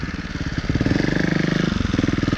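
A 2018 Beta Evo Factory 300 4T trials motorcycle runs close by on a field, its single-cylinder four-stroke thumping in a rapid, even pulse. The revs rise to a louder, steady rumble after the first half-second.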